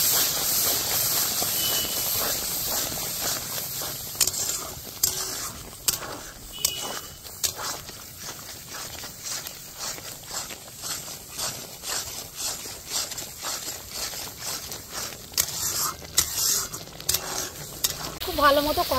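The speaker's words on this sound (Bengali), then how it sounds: "আস্তে আস্তে নাড়া দেবো।" Whisked yogurt stirred slowly into a sizzling paneer curry gravy in a pan, a steady loud hiss and crackle throughout with faint scraping of the spoon.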